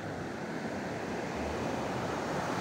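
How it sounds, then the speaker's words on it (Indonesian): Heavy surf roars steadily, waves crashing and washing close by with a constant broadband rush and some wind buffeting, at Ngiriboyo Beach, Pacitan. "Ombaknya besar banget."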